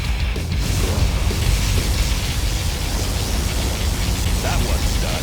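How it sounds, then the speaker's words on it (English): A particle cannon firing in the Command & Conquer: Zero Hour video game, a steady loud roaring, hissing blast sustained without letup. "Particle cannon activated."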